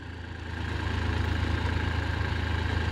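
A Massey Ferguson 245 tractor working a farm field with a tiller, its engine swelling in over the first half second and then holding a steady, even diesel rumble.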